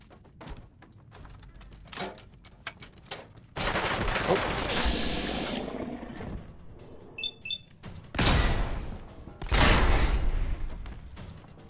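Gunfire in Fallout 4 modded with Sim Settlements 2, with sharp scattered shots giving way to loud sustained bursts and rapid volleys, plus a short electronic chime, all close and dominant with no talk.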